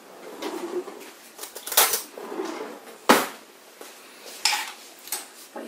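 A spoon clinks against a glass jar in a home kitchen while making piccalilli: several sharp, bright taps and scrapes spaced irregularly, close and clear over near silence.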